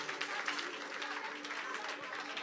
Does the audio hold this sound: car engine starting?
no